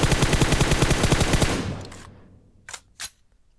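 AKM rifle fired in sustained automatic spray in an online shooter game, a rapid loud burst for about one and a half seconds that trails off, followed by two separate sharp shots.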